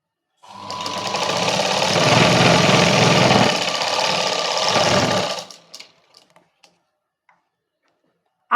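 A sewing machine runs in a steady, continuous whir for about five seconds while stitching a princess cut blouse, then slows and stops, followed by a few faint clicks of handling.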